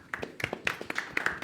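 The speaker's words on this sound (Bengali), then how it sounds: "একটা তালি হবে" Scattered clapping from a small crowd at a Suzuki bike launch and delivery celebration, a brief burst of uneven hand claps heard close and fairly loud.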